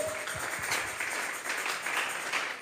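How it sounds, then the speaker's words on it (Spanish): Church congregation giving a round of applause during a sermon, steady moderate clapping from many hands filling the room, slightly distant and without voices over it. "Vamos a regalarle ofrenda de palmas al Dios de la gloria."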